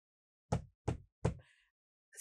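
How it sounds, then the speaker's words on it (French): Three sharp, evenly spaced knocks on a door, close and distinct in an otherwise quiet room, followed by a faint trailing rattle and the start of another sound. "Elle frappe à la porte et elle demande à Henri d'ouvrir cette porte."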